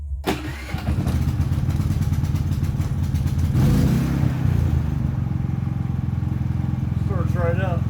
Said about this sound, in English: Starts right up, which is fine. It's a great generator.